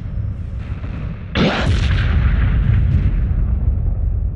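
Heavy gunfire and explosions rock a ship under attack in the space strategy game Homeworld Remastered, with a loud blast at about 1.4 seconds and sustained booming combat rumble continuing after it.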